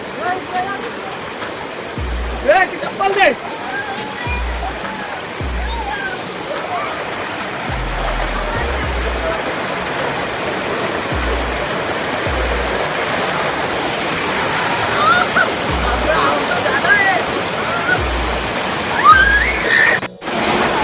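Water of Prabalgad waterfall at Dongarachi Wadi falls in a steady broadband rush, low in flow, with occasional low thumps and faint voices far off.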